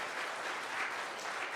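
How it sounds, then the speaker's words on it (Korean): Steady applause from the congregation at a Catholic confirmation class held in a church, a dense even patter of many hands that keeps up at a moderate level the whole time, with no talking over it. "여러분들 자신을 위해서 박수 크게 한번 치세요"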